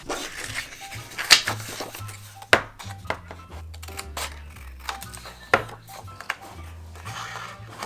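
Scissors snip through printed paper hearts for a Valentine's banner in a craft studio, giving a few sharp, close cuts at irregular intervals over steady background music.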